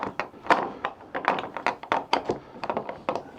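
A stiff wooden door in a Welsh home thuds repeatedly on a rainy day, with a string of irregular, fairly close knocks and bumps over about three seconds.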